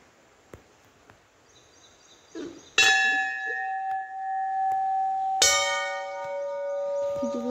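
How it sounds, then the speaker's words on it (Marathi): Two loud metallic bell strikes ring out inside a Vitthal Rakhumai temple, each with a sharp clang and a long sustained, shimmering decay, the second following a few seconds after the first. "तर तो आता आपण घंटी वाजूया."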